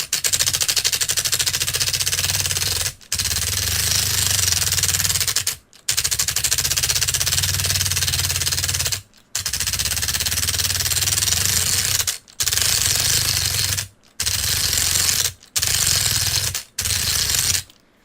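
A brushless motor pushed by hand gives a loud, continuous rattling buzz of cogging and gear backlash that runs in bursts of a few seconds, cut by brief silences.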